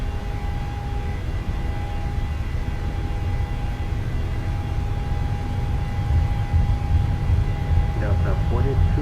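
PMDG 737-800 jet engines at takeoff power in Microsoft Flight Simulator give a steady, loud roar with a constant high whine that holds throughout, swelling slightly toward the end.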